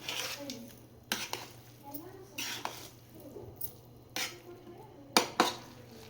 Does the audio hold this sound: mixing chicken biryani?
yes